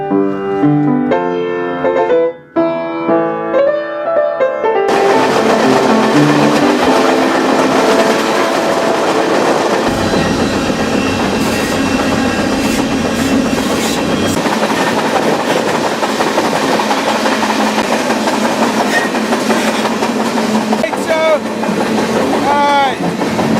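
A freight train rumbles steadily along the rails between Dallas and Houston with rhythmic clatter and rolling noise, loud and continuous; a brief musical passage plays at the start.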